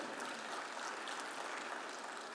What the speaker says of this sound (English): A big round of applause, ladies and gentlemen, for these two gentlemen.